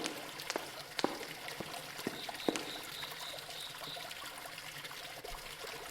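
Water trickles and pours softly in the adventure game Rose Cottage, a faint continuous stream with occasional small splashes and drips.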